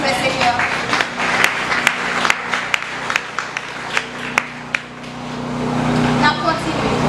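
A church congregation claps for the Lord with scattered, uneven handclaps spread over several seconds, mixed with a steady low hum of background noise and a voice speaking.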